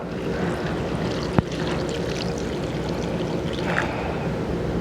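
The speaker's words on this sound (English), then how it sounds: "So I've got hot water here just from my tap, nothing special." Hot tap water pouring over dehydrated potatoes in a container, a steady rushing splash throughout with one sharp click partway, close and fairly loud, no talk.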